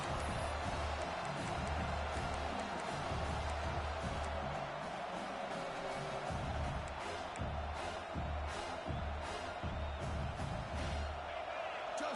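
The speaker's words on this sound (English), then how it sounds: "this home crowd is fired up and ready to make a difference today" A home crowd at a college football game between South Carolina and LSU keeps up a steady roar of noise, with cheers rising and falling. A commentator talks over it the whole time.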